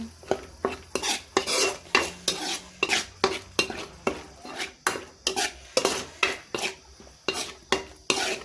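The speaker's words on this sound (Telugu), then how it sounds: "అల్లం వెల్లుల్లి పేస్ట్ వేసుకుందాం. ఇప్పుడు ఈ అల్లం వెల్లుల్లి పేస్ట్ కూడా పచ్చి వాసన పోయేంత వరకు వేచి ఉందాం." Ginger garlic paste frying in a pan while being stirred, with regular scraping and metal-on-pan clinks at a steady rhythm over a faint sizzle, close and clear with no talking.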